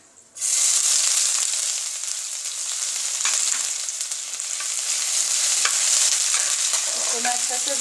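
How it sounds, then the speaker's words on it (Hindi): Ginger-garlic paste fried in a pan with cumin, black pepper, black cardamom, bay leaf and red chilli gives a steady, close sizzle with occasional stirring scrapes and no talking. "इसको मैं अच्छा से भून लेती हूँ।"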